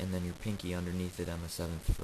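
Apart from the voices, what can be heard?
None of the usual background noises is heard.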